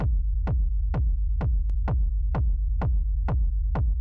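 A deep, booming electronic techno kick drum thumps alone in a steady four-on-the-floor rhythm, roughly two hits per second, each with a quick downward pitch drop.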